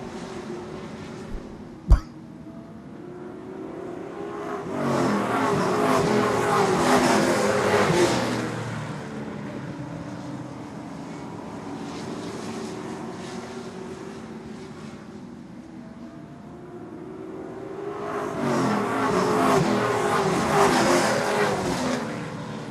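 Late model stock cars race at Seekonk Speedway, roaring engines swelling in two loud passes with quieter stretches of distant engine drone between them, plus a sharp knock near the start.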